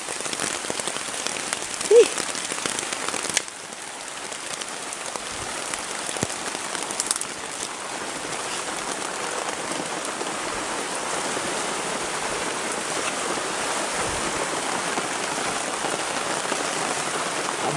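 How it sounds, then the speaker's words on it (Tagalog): Heavy rain pours steadily in the mountains, a dense, loud, unbroken hiss of drops hammering surfaces that continues unchanged throughout, with no voices. "Sobrang lakas ng ulan."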